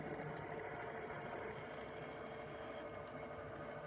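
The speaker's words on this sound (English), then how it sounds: "The Maker is drawing my seam allowance" A Cricut Maker cutting machine draws seam allowance lines on fabric with a steady, quiet mechanical whir and faint motor hum, continuous and close, with no talking.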